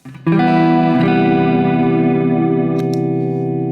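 Electric guitar chord struck through a Strymon Blue Sky reverb pedal with the effect engaged, a loud sustained ring that swells after a short first strum and holds steady with a washy reverberant tail.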